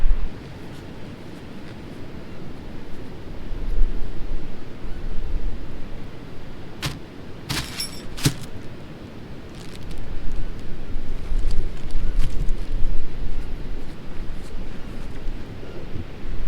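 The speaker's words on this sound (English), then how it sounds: "It is going to be noisy because you know the waves. I can hear the sound of the waves" Wind buffets the microphone over a rolling wash of ocean waves, rising and falling throughout, with a few sharp clicks in the middle.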